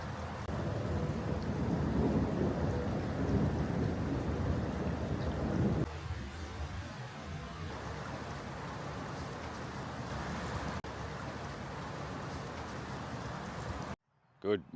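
Steady heavy rain in a winter thunderstorm, a dense continuous roar that softens midway, with a single sharp crack near the end before the sound cuts off.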